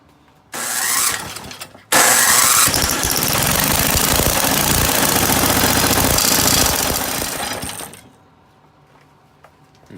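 A snow blower engine tack-welded onto a custom drift trike is pulled, briefly catches, then roars loudly and rattles for about six seconds before dying away, close and harsh, with no talking.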